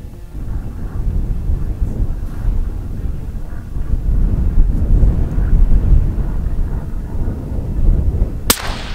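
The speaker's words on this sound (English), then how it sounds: "Oh, wind, come on now, cooperate." Steady outdoor wind buffets the microphone with a loud low rumble and gusts throughout a long range rifle shooting session, and a single sharp crack stands out near the end.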